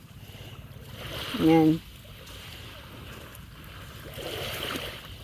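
High-tide sea waves wash along the seashore in a soft, continuous rush, with a brief spoken word early on and a slight swell in surf near the end.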